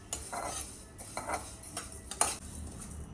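Urad dal dry-roasted in a pan for chakli bhajani flour, with a few quiet metal spoon scrapes and clinks against the pan, close but soft, in otherwise near silence.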